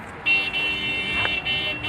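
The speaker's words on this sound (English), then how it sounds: "they're honking here like in India." Car horns honk on a street in China: a sustained, fairly loud horn tone comes in early and holds with brief breaks, over steady traffic noise.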